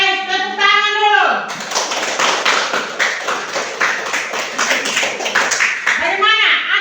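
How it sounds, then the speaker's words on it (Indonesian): Clapping from a group, likely a classroom, with dense rapid claps sustained for about four seconds, framed by talk before and after. "tepuk tangan dulu"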